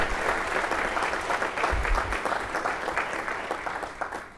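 A university lecture audience applauds in a steady, dense round of clapping at moderate volume, with a low thump partway through and the clapping tapering off toward the end.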